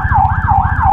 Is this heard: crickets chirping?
no